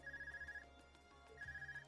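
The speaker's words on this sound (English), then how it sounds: "Is that your Arcus ringing?" A handheld Arcus communicator rings in the video game Trails of Cold Steel, two bursts of rapid trilling electronic ringing separated by a short pause, fairly quiet over a soft background of game music.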